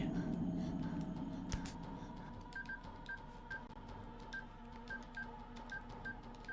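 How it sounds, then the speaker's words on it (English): Phone number keyed in on a video game keypad, a rapid run of short DTMF tones, about a dozen quick beeps in an uneven rhythm, preceded by a brief thump over a low background hum. "I'm gonna key in the phone number as quickly as possible"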